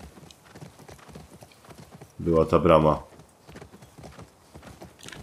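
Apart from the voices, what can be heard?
horse hooves clip-clop in video game The Last of Us Part II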